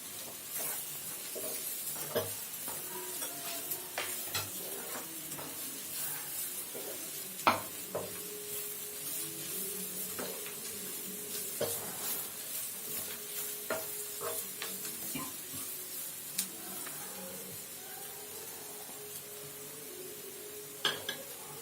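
Sliced onions and bitter gourd frying in oil for a South Indian poriyal, giving a quiet steady sizzle with scattered clinks and scrapes of a spoon stirring in the pan.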